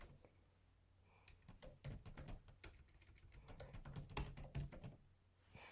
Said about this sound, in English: You typing adds like dramatic, like radio sound effects to this